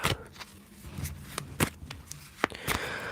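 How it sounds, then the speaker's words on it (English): Tarot cards shuffled by hand in a quiet ASMR tarot reading, giving a run of short crisp riffling and tapping bursts close to the microphone, with no voices. "Let me just shuffle these cards back in now."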